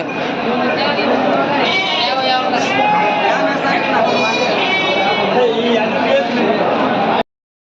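Sheep bleat repeatedly at the Mudhol sheep market, loud and close, over a dense bed of crowd chatter and people talking.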